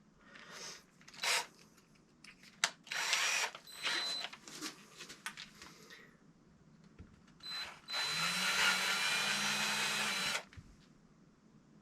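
A small power drill whirs in short bursts and scrapes while drilling binding holes in a ski, then runs in one long steady whine that rises in pitch before stopping.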